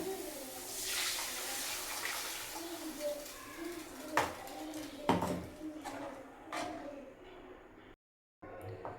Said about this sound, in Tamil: நம்ம அரைச்சி வச்சுருக்கிற மசாலாவை உள்ளே ஊற்றிடலாம்